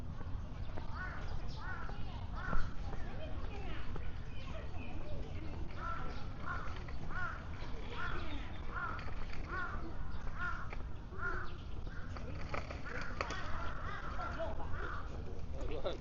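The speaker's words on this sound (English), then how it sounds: "I hear a lot of crows." Many crows caw repeatedly at Beijing Zoo, their harsh calls coming in steady series from a moderate distance over outdoor crowd murmur, with someone talking in between.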